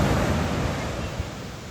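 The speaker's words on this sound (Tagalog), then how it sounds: "Maalon lang. Kasi nasa West Philippine Sea tayo eh." Choppy ocean surf on a Zambales beach by the West Philippine Sea: a continuous broad wash of rough waves, fairly loud and constant, with no voices.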